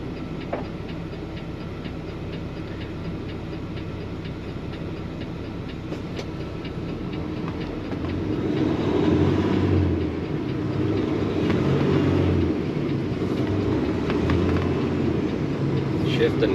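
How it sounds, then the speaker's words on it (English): A Peterbilt truck pulling away from a stop and working up through its gears, a heavy low engine rumble heard from inside the cab that grows noticeably louder partway through and carries on steadily. "Shifting nice and smoothly up through the gears."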